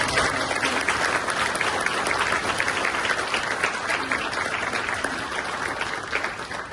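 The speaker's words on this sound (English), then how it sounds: "Round of applause please for those." Sustained audience applause at a train naming ceremony for unit 465908, a dense steady clapping crowd, loud and close, continuing without a break and with no clear talking over it.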